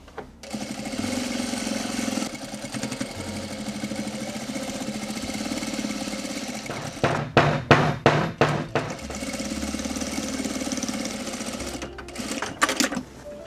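A sewing machine hemming a pair of shorts at a half-inch seam allowance, a steady close mechanical whir that runs long, breaks into short stop-start bursts, then resumes and ends with a few quick taps.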